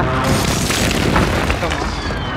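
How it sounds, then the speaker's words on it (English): Airstrike explosions in a Call of Duty match on the Urzikstan map: dense, continuous booming blasts with rumbling low end fill the whole stretch, loud and close, with voices faintly underneath. "Hava saldırısı atayım oraya bir."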